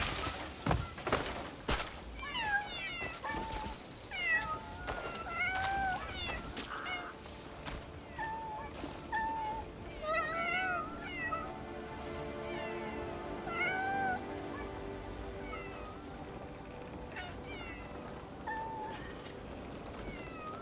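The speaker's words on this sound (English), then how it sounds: "With all the cats." Cats in an RPG video game meow repeatedly over a busy, continuous game soundscape, with several short, rising cries scattered throughout and a few dull thumps.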